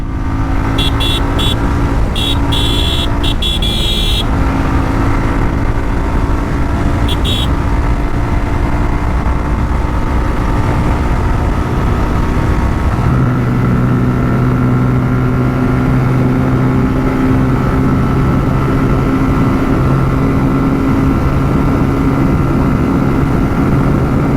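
A Suzuki Gixxer SF motorcycle is ridden at speed in a continuous run. The engine drones loud and constant while wind rushes around it, and the tone shifts partway through as the bike settles into a steadier high-speed pitch.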